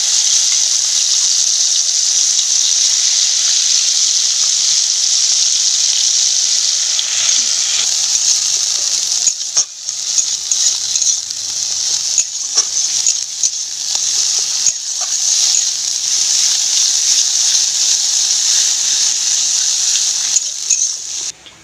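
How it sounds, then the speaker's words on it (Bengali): Ground drumstick and thankuni leaf paste fries in oil tempered with kalo jeera in a kadai, a loud, steady close sizzle running throughout, broken midway by bursts of scraping as the paste is stirred. "এইভাবে শুকনো শুকনো করে ভেজে তুলে নিতে হবে।"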